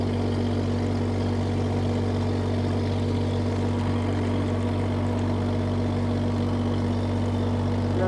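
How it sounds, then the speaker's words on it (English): A Groundhog KH25D-2 mini-excavator drones steadily nearby as its body swings around, the engine's constant low hum unbroken and loud with no speech. "We're going to rotate our chassis and we're going to rotate our body."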